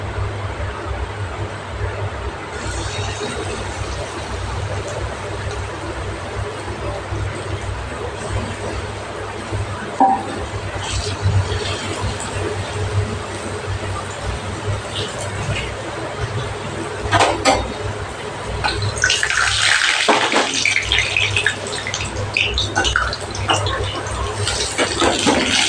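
Bora fritters sizzle in plenty of hot oil, a steady, dense crackling hiss that continues throughout, growing briefly louder near the end with a burst of bubbling, while a person talks over it.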